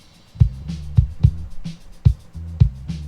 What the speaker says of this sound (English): this is how the kick sound without any EQ